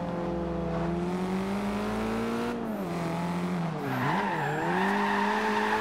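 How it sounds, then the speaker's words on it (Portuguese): A Mercedes A 45 AMG in Forza Horizon 2 drifts with a sustained engine howl that dips and swells as the revs drop and recover mid-slide, with a rising tire-squeal texture near the end and no talking. "Driftzinho maroto para vocês"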